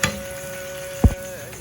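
Minced mutton sukka with potatoes fries in a pan with a steady low sizzle, and a single loud clatter of the stirring spoon breaks it briefly near the end.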